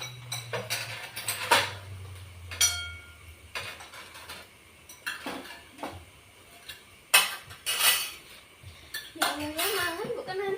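A small spoon clinks and scrapes against dishes in sharp, irregular taps during a pre-dawn sahur meal, with people chatting nearby.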